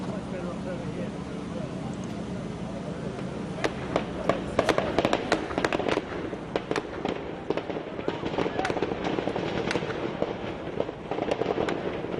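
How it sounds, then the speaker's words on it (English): Sharp cracks of gunfire pop repeatedly at irregular intervals, some in quick bursts, during an army assault on a Nairobi shopping mall, Kenya, over steady background noise and voices talking. "So there you can clearly hear the gunfire."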